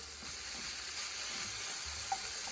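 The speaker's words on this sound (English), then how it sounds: "So my turkey meat is starting to brown up pretty good." Ground turkey meat browns in a pan for low-carb tacos, giving a soft, even sizzle with faint stirring scrapes, quiet and continuous with no voices.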